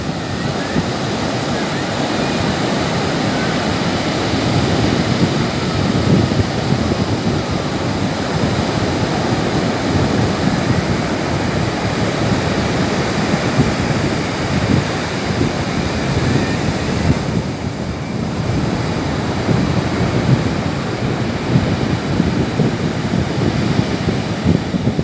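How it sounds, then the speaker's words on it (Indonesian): Sea waves wash in at Widara Payung beach as a loud, continuous roar of surf with wind rushing over it and no clear breaks. "Ombak yang sangat indah."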